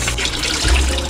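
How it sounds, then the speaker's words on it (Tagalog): Tap water runs in a steady close rush as rice cake is washed under it in a home kitchen, with no voices. "Ito yung rice cake na gagamitin ko. Huhugasan ko muna to."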